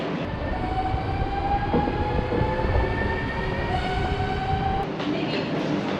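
Steady rumble and hiss from inside a moving Dutch intercity passenger train in the Netherlands, with faint high tones and a low continuous roll and no talking.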